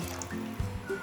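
Water is poured into a kadhai wok in a short, quiet trickle with a few soft splashy drips, lasting about a second.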